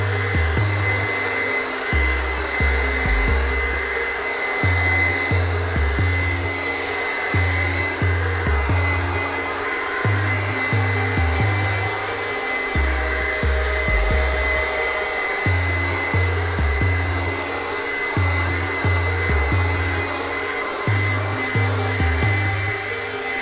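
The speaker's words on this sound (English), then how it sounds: "go over the whole thing one more time with our hair dryer" A hair dryer drying spray paint on poster board blows loudly and steadily from close by, its whooshing roar continuous with a regular pulsing hum underneath.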